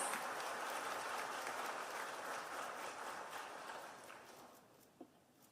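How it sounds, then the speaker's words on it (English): Audience applause at the Yushan Forum welcoming Taiwan's President Tsai Ing-wen to the stage, a broad steady clapping that gradually thins and fades toward the end. "Please welcome President Tsai with a warm round of applause."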